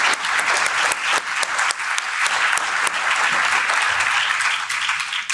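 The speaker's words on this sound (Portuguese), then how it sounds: "que también les pido un aplauso para ellos" A hall audience at a Cuba solidarity forum in Parliament breaks into dense, sustained applause, loud and close, with a few sharper claps standing out across the whole span.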